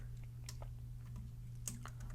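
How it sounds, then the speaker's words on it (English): Quiet keystrokes on a computer keyboard, a few scattered clicks over a low steady hum, with no talking. "as I start typing"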